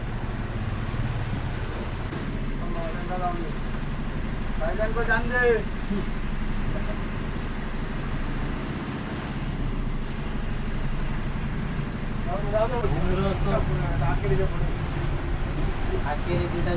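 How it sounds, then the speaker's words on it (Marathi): A bus pulling in at Sawantwadi on a Madgaon to Borivali run, its steady low engine rumble continuous throughout, with two brief high whistle-like tones and people talking over it. "5 वाजून 33 मिनिटांनी गाडी सावंतवाडीला येते"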